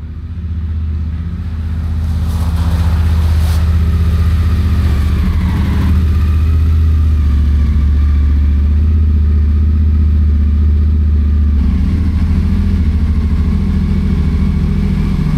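A motorcycle rides into a new garage at the end of a trip, its engine a loud, steady low rumble held close throughout with slight throttle swells, no voices.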